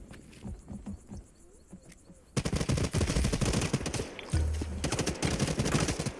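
Rapid automatic gunfire in the video game Hawked crackles in dense, loud bursts, starting after a quieter stretch of scattered game sounds and continuing to the end.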